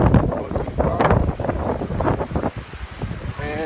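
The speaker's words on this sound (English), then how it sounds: "it's very windy" Strong gusts buffet the microphone on a rainy island peak, a loud rough roar rising and falling in uneven bursts throughout.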